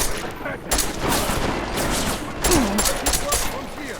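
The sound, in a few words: gunfire in the video game Deus Ex: Mankind Divided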